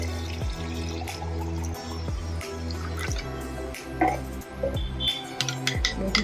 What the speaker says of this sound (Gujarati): હવે આપણે એમાં ઠંડુ પાણી એડ કરી દેશું।